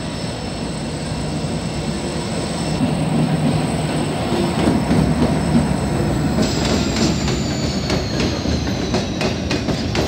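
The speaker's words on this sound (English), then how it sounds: "so I'll see you when another freight train comes" A loud freight train rumbles steadily past close by, wheels clattering over the rails with occasional high metallic squeals, no voices.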